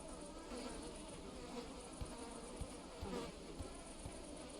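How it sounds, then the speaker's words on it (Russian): Flies buzzing continuously close by, a dense steady insect drone filling the whole stretch with no speech over it. "Я только и слышу твоих нахуй мух"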